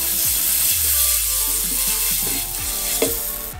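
Butter sizzles steadily in a hot frying pan over medium heat before sausages are added, a constant bright crackling hiss with occasional pops and soft scraping.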